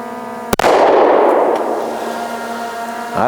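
A single sharp report from a Smith & Wesson M&P Shield 9mm pistol, a loud close crack followed by a long ringing, metallic decay that fades over a few seconds.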